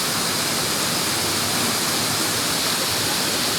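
Hogenakkal waterfall pours in a steady, dense roar of falling water, loud and close, unbroken throughout with no voices.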